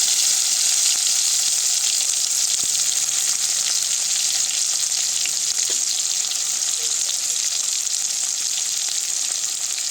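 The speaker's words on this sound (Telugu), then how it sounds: "ఇప్పుడు ఉల్లిపాయలు, పచ్చిమిరకాయలు వేస్తున్నానండి." Onions and green chillies fry in oil with a loud, dense, continuous sizzle that stays even for the whole stretch, close up and without speech.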